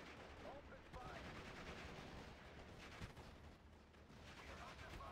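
Dense, continuous battlefield gunfire from the World War II strategy game Steel Division: Normandy 44, with rifle and machine-gun bursts and heavier artillery-like booms layered into a steady rumbling wash, faint throughout.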